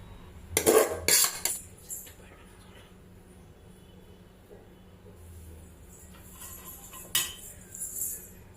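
A spoon stirs chicken biryani in a cooking pot, giving a few loud clinking scrapes early on and another near the end, with quiet stretches in between.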